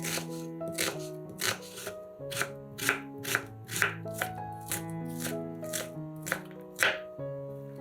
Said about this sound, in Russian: Одну луковицу нарезаем небольшими кубиками